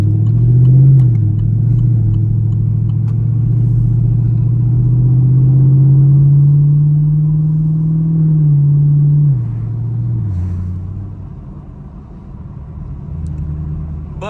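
A Chevrolet Camaro SS V8 rumbles deep and loud from inside the car while driving, pitch rising slowly as it accelerates, then dropping off as the throttle lifts, with faint crackles near the end.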